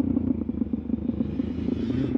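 A motorcycle popping a wheelie somewhere among sandstone and arches, its engine a steady low throbbing rumble with rhythmic pulses, fairly close and continuous with no talk over it.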